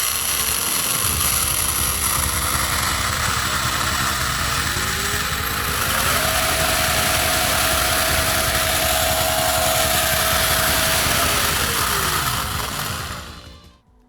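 Brushless motor of a Tamiya TT02 RC car on a 3S battery with the wheels off, a loud continuous high whine rising in pitch, holding at full speed, then falling and cutting off at the end.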